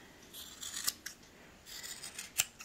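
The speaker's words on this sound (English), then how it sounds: "Hang on to them and just start trimming" Scissors trim a yarn pom pom, giving soft, close snipping cuts in two brief clusters with a sharper snip in each.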